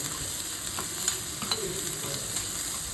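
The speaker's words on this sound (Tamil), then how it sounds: "இஞ்சி கொஞ்சம் போட்டுக்கலாம் பச்சை மிளகா கொஞ்சம் போட்டுக்கலாம் இதெல்லாம் கொஞ்சம் நல்லா வதங்கி வந்ததும்" Ginger and green chilies sautéing in a pan of oil for kuli paniyaram batter, a steady low sizzle with faint stirring scrapes, close and even, no speech.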